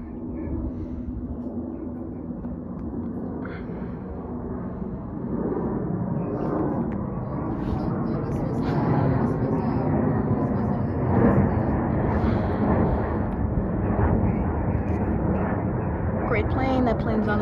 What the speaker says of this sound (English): here comes Southwest Airlines flight 545 from Austin, Texas to Oakland, California International Airport